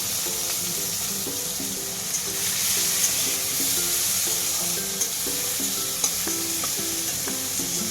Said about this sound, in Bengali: এই তেলেই আমি একটু পেঁয়াজ কুচিগুলো যেগুলো দেখালাম পেঁয়াজ কুচিগুলো ভেজে নেব